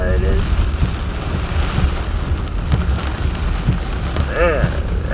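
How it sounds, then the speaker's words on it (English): Extremely heavy rain comes down in sheets in Chicago, Illinois. It makes a loud, dense roar of drops hammering the ground, with low rumbling underneath and a brief voice faintly audible near the end. "Some heavy rain. Watch, it's coming down on sheets on the ground."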